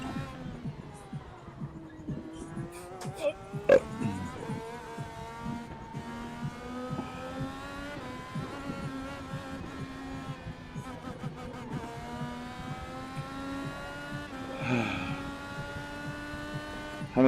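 A race car engine in the Raceverse sim racing game at Summit Point drones with sustained revs that rise and fall, loud and close, with no talking.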